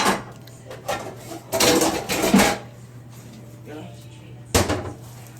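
A pot lid set on a pot on the stove: a few loud metallic clatters and scrapes in quick succession, then a quieter pause and one more sharp clank, over a low steady hum.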